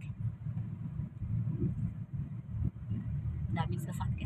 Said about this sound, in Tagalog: Daming sasakyan. Kahit linggo, ang daming sasakyan.